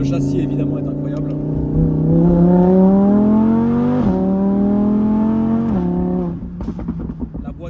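An Audi R8 Spyder convertible engine revs hard while driving, pitch climbing steadily through two upshifts before the throttle lifts and the note breaks into crackles and pops at the end.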